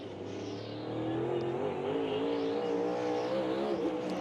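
NASCAR race car heard from an in-car position while accelerating off a corner at the Cook Out Clash, a loud, steady engine roar that rises and falls in pitch as it revs.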